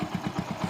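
A motorcycle engine idles faintly at night in a quick, steady chugging rhythm of low pulses.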